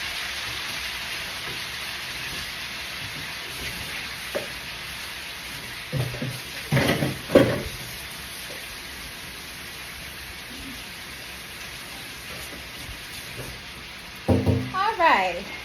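Potatoes frying in oil give a steady, rain-like sizzle through the whole stretch, with a few louder clatters and brief talk breaking in near the middle and end.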